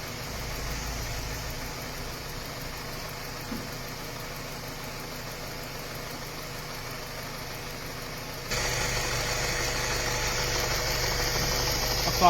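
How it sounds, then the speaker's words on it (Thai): A Mazda3 engine idles steadily with the air conditioning running after an AC evaporator unit replacement, giving a low, even hum that grows slightly louder partway through as the blower noise rises. "เสียงเครื่องยนต์เสียงการทำงานระบบแอร์ ปกตินะฮะ"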